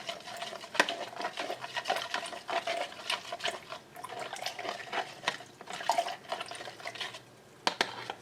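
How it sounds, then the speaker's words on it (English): A spoon stirs cornstarch into water in a bowl, making small wet clicks and swishes in an irregular rhythm, close and fairly quiet, with no voices. "I'm going to mix this cornstarch and the water together"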